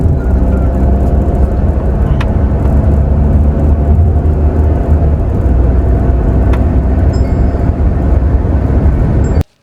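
A vehicle cruising on the eight-lane Delhi–Mumbai Expressway gives a steady, loud low road and engine rumble with constant tire noise, a couple of faint brief clicks, and no voices.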